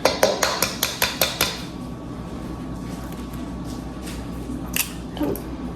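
An egg being whisked into cookie dough in a bowl, opening with a quick run of about eight sharp metallic clicks from the whisk against the bowl, then a softer stretch with faint scraping and a brief clink near the end.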